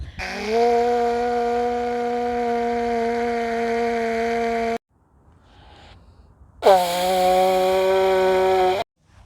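A conch shell (dungkar) ritual instrument is blown in two long, steady, loud blasts. The tone is rich and buzzy, with a short quiet gap between the blasts and no speech.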